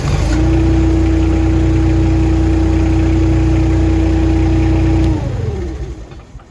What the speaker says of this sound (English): I can then start the engine.